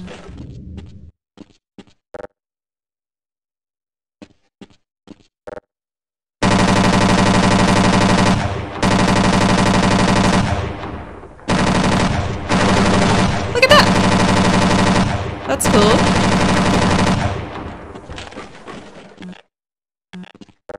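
Rapid automatic gunfire from the video game Half-Life: Blue Shift rattles in loud sustained bursts, separated by short pauses and a few scattered clicks and single shots.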